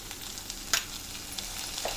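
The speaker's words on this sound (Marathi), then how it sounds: "आता हे तेलात चांगलं भाजून घ्या." Ginger-garlic paste fries in hot oil for a garlicky fenugreek dish, giving a low, steady sizzle with a brief sharper crackle partway through and no voices.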